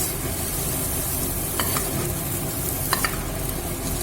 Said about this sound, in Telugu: ఇదే ప్యాన్లో మనం మళ్ళీ కొంచెం నెయ్యి వేసుకుని జీడిపప్పు బియ్యం వేయించేసుకున్నాము